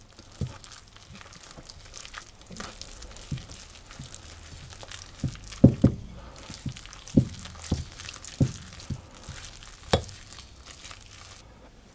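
Puff pastry dough worked with a Danish whisk in a bowl, giving soft irregular thuds and scraping knocks, close and fairly quiet, with scattered sharper clacks in the middle.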